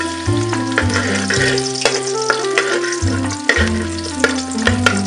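Garlic frying in cooking oil in a pan gives a loud, continuous sizzle with occasional stirring scrapes, heard alone over steady background music.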